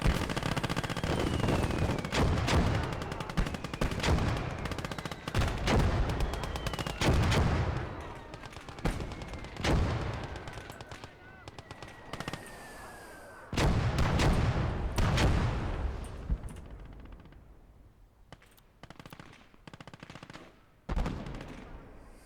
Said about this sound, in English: Mortars is still going as well.